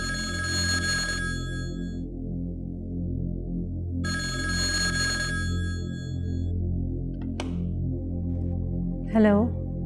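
A telephone ringing indoors, two clear trilling electronic rings spaced a few seconds apart over a low background hum, followed by a couple of faint brief tones.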